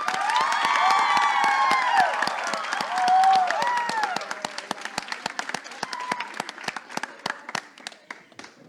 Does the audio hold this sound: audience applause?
yes